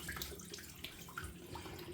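Water runs from a tap into a bathroom sink, being warmed for a wet shave with a Gillette Tech razor, a steady soft splashing flow at low level with no talk.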